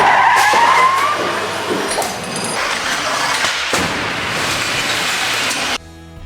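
A car crash test impact plays in real time: a harsh screech and crunching collision noise runs loud for several seconds, then cuts to near silence at the end.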